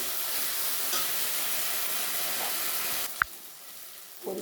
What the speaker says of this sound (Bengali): দিয়ে সমস্ত মশলাগুলো আমি খুব সুন্দর করে ভেজে নেব